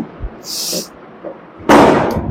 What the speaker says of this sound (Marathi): नुसते फटाके फुटून राहिले राव, काय एकही थांबायचं नाव घेत नाही